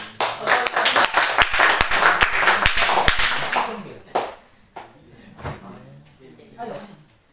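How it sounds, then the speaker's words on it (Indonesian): A classroom group of students claps hands together in a quick burst of sharp, rhythmic claps that fades after a few seconds, followed by scattered taps, shuffling and nearby talking voices. "Ayo, kelompok 3, tepuk tangan."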